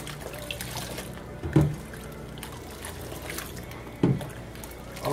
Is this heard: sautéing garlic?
no